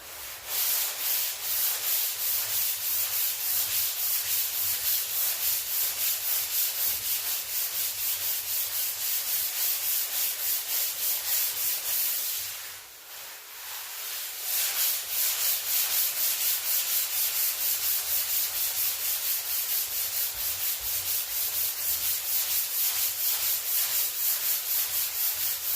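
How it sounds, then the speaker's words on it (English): Steady, continuous sanding on the body of a 1969 Dodge Dart: a dense, raspy rubbing that keeps a close, even rhythm for the whole stretch, with one brief pause in the middle before the strokes pick up again. "It's a little bit hard to sand."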